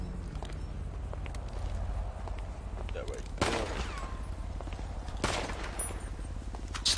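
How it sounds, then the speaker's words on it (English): Gunfire in GTA RP on NoPixel 3.0: two sharp shots or short bursts stand out over a low game rumble, with faint voices in the background. "Stop shooting me!"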